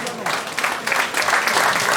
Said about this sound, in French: Je vous demanderai d'applaudir bien fort, s'il vous plaît, Marly Ballon